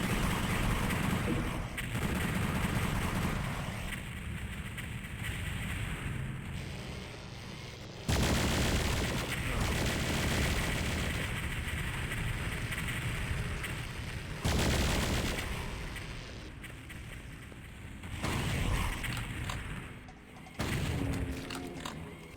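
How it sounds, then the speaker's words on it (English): Booming cannon-like gunfire in Doom 64, a fan remaster played on PlayStation, pounding steadily across the whole span with loud broadband bursts and a few sharp jumps in intensity. "It's just like a wall of cannons."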